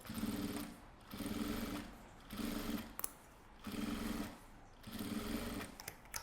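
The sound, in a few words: sewing machine stitching a seam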